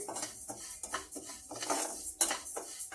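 A spoon scraping and clinking against a metal pan while rice is stirred after the stove is turned off, giving irregular close scrapes and taps in an uneven rhythm.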